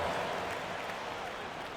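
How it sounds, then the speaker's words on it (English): Steady crowd applause and noise fills an arena in an NBA 2K basketball video game, a broad wash of clapping that stays level throughout without much variation. "Give yourself a round of applause."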